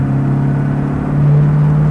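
A 1963 Corvette coupe on the freeway, a loud, steady low engine drone with a strong tonal hum and road rumble that swells slightly in the second half, heard close throughout with no voices.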